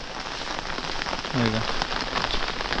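Heavy monsoon rain falls on a village in a dense, steady patter on surfaces, with a brief faint voice in the middle.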